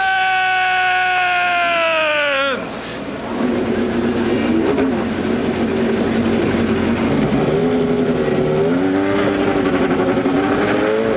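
Race car engines fire up at a diecast swap meet and racing collectibles event, a high whining tone falling away into a rough, loud roar of idling and revving that keeps rising and surging.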